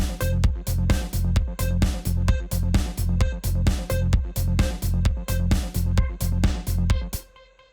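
A synth lead processed with Bit Crush and Valhalla Supermassive reverb plays within a full track over a steady pounding beat, loud and rhythmic, before cutting out near the end and leaving a brief reverb tail.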